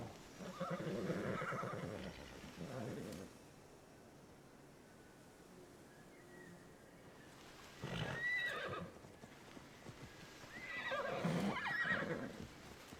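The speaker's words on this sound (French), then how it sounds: "Oh, les petits chevaux, ils sont trop mignons." Horses in the video game Immortals Fenyx Rising neigh in three loud, drawn-out whinnies spaced several seconds apart, with quiet ambience between them.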